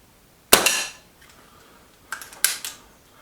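A Stoeger XM1 .22 air rifle fires a pellet with one sharp, loud crack that fades quickly, followed by a few lighter mechanical clicks and knocks.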